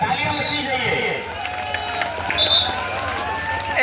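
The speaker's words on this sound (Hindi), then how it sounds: "तालियां बजनी चाहिए।" Crowd at a traditional wrestling dangal in Bibiya Karanpur, Pratapgarh, cheering and clapping in a loud, continuous wash of noise with voices shouting over it.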